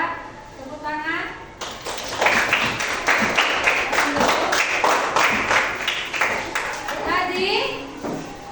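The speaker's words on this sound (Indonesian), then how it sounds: "Oke, coba tepuk tangan." Students in a classroom clap together for a group after its discussion presentation, a sustained burst of dense applause lasting several seconds, with a teacher's voice just before and after.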